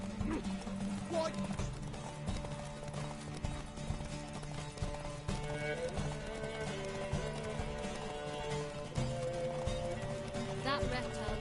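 Rhythmic hoofbeats of a horse galloping in a video game horse race, steady clip-clop under a loud music score and a voice calling out the race start.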